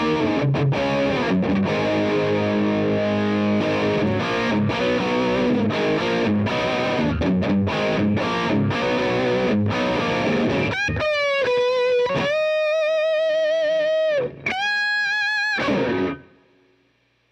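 Neck-pickup electric guitar through a modded Boss DS-1 Tri Roxx Plus distortion pedal turned up, chugging heavy chords, then sustained singing bent notes ringing out before fading away.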